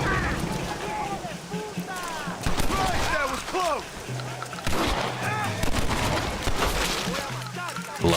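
Repeated shotgun blasts in a Red Dead Redemption gunfight, heavy booming shots in irregular bursts amid other gunfire and game effects, loud and close.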